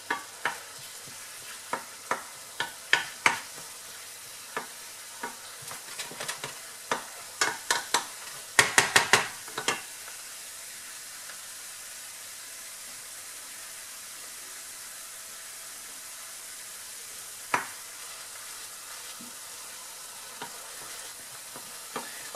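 Mushrooms frying in a hot saucepan for a chicken, mushroom and curry dish, giving a steady close hiss and sizzle broken by sharp scrapes and clicks of stirring, busiest early on and then settling into a quieter sizzle.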